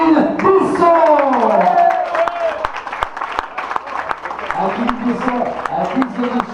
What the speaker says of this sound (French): Mesdames et messieurs, on l'applaudit, Kevin Bisson